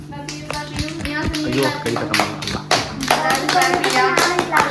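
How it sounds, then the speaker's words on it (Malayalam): An audience claps along after a child's song, a busy run of close hand claps and taps with some voices mixed in. "എല്ലാവരും ക്ലാപ്പ് ചെയ്യൂ"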